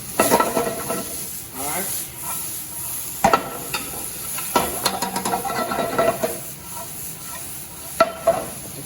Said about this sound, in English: Listen to the sizzle. That's what you want to hear.